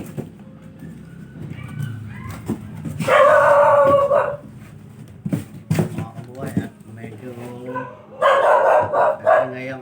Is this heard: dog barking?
yes